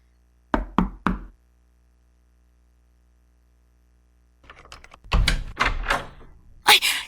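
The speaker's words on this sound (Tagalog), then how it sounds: "Kumatok ka na" Three sharp knocks rap on a door, close and crisp, followed by a long silence before people begin talking.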